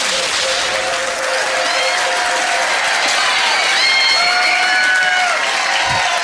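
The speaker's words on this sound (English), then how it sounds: "give them a huge round of applause" A large pub trivia quiz crowd applauds loudly and continuously, with some cheering and whistles rising through it.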